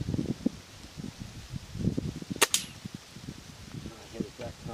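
A single sharp crack of a Gamo Whisper Fusion Elite .177 air rifle fitted with a 3-9 power scope fires about halfway through, short and close, with someone talking before and after it.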